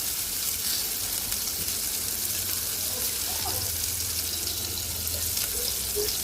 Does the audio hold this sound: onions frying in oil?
yes